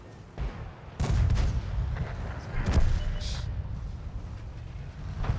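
Rapid autocannon bursts from a Leopard tank in the game World of Tanks, loud booming volleys at close range that start abruptly and repeat in clusters over a rumbling battle backdrop.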